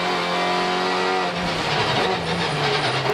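Race cars at the Nürburgring in a Supercar Challenge round, including a BMW Z4 Silhouette, roar past with loud, sustained engine drone and shifting pitch, no voices.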